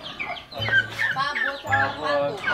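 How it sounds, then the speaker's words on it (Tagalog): Turkeys and ducks on a small farm call out in a run of close, repeated honking and gobbling cries, overlapping one another with only brief pauses. "Pabo tsaka pato"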